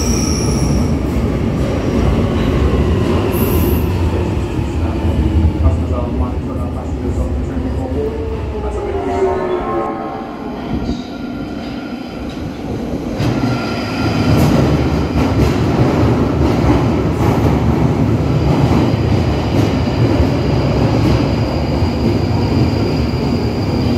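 A London Underground Jubilee line train runs through a Tube station, a loud rumbling roar with rising and falling wheel squeal and clatter that dips midway, then builds again, continuous and close.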